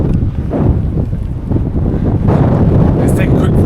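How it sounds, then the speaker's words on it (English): Strong gusting wind buffeting the microphone on the high-altitude Karakoram Highway, a loud continuous roar that swells and dips, filling the whole stretch with no other sound standing out. "In case you don't believe me with the wind,"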